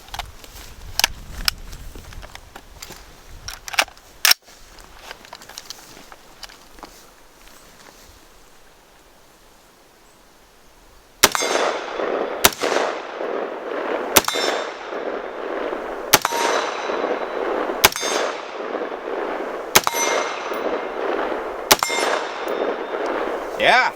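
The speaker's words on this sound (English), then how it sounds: "I want to pop a few rounds on the steel targets" Airsoft Colt M16A1 rounds striking steel targets outdoors give sharp metallic clangs, a few scattered at first, then a regular series of about eight ringing hits spaced a second or two apart against a rustling background.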